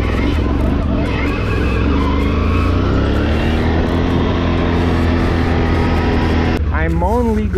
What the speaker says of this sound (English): Engine sounds healthy.